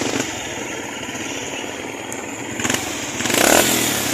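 A Suzuki Smash 115 motorcycle, just repaired, runs with a steady, close engine drone that swells briefly as the throttle is blipped near the end.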